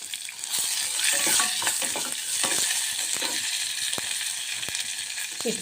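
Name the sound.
curry leaves and spices sizzling in tempering oil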